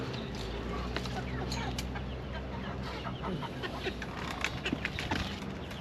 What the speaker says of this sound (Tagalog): Ito na yung mga pasaway nating bibi.